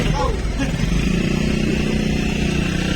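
A motorcycle engine runs steadily through an open plaza, a continuous mid-pitched drone with a faint buzz that stays fairly close throughout, with a voice talking over it.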